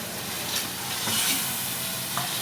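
Tomatoes and masala for aloo gosht fry hard in a pot, with a loud continuous sizzle and repeated scraping stirs close by.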